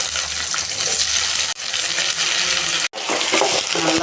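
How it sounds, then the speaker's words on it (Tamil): Eggplant and onion sizzle and crackle in hot oil, a loud continuous fry, broken twice by brief drops as the pan is stirred. "எண்ணெயிலேயே இது நல்லா வதங்கட்டுங்க"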